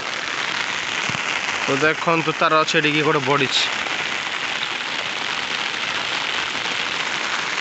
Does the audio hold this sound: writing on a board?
no